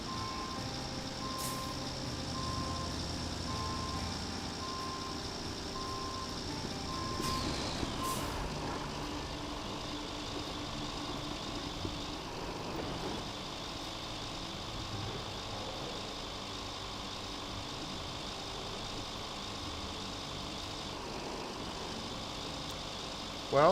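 A heavy truck in the RoadCraft construction game idles and maneuvers, its steady engine rumble carrying a continuous repeating reversing beep, with an air-brake hiss partway through.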